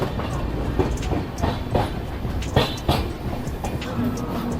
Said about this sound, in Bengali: আমাদের ট্রেন এখন ডিপার্চার নিল বঙ্গাইগাঁও রেলওয়ে স্টেশন থেকে।